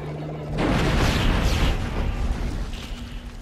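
Line gun firing in the video game Dead Space: a sudden loud blast erupts, then a dense, roaring rumble holds for about three seconds.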